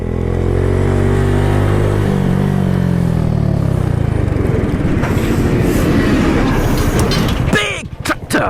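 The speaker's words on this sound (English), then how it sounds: "Big tractor!" A big tractor passes on the road close to a Suzuki Address 125cc scooter, its heavy engine drone sweeping down in pitch as it goes by, followed by wind buffeting near the end.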